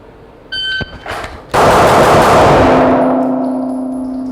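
A short electronic shot-timer beep comes first, then a pistol fires rapidly in a Bill Drill, loud and close, the shots running together into one burst that rings and fades.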